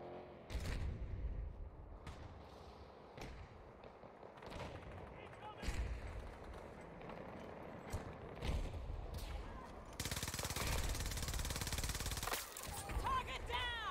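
A fast-firing gun shooting in the Battlefield 2042 video game: loud, sharp shots land roughly every second, followed near the end by a burst of harsh, sustained noise.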